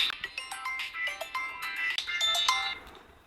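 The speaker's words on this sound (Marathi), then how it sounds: "अरे दादा, तो शाळेतल्या मित्राचा फोन आलाय." A mobile phone left on charge rings with an incoming call. The bright, melodic ringtone repeats in quick electronic notes, fairly faint and heard alone.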